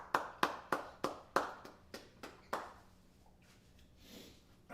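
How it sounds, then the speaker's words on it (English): A single run of sharp claps, about eight in a steady rhythm, rings out close and clear before trailing off into quiet room tone. "Give yourselves a round of applause on this one."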